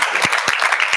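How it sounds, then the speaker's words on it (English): Audience applause at an African culture showcase event, a brief burst of dense clapping with a few sharper, louder claps standing out in the wash. "Can we give them another round of applause?"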